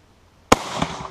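A single loud rifle shot from an Austrian Steyr M95 infantry long rifle firing a surplus round: one sharp close crack followed by a short rolling echo and outdoor ambience, with no talk.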